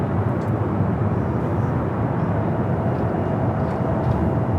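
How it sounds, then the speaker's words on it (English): A Cathay Pacific Boeing 777-300ER taxis for takeoff at LAX, a loud, steady, broadband jet engine roar holding at even strength throughout, with no talk. "Pacific 777-300ER. Flight back to Hong Kong. Making its way up here for a north side takeoff."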